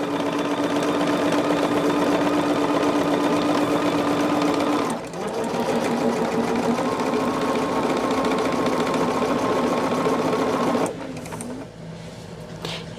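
A sewing machine stitching quilt pieces runs in a fast, steady whirring drone, pausing briefly near five seconds, then running on before slowing to a halt near the end.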